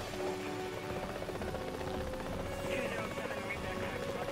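Rescue helicopter in the game Rettungshubschrauber Simulator, a steady droning rotor and engine hum running continuously beneath someone talking, moderately loud with a brief higher whine near the end.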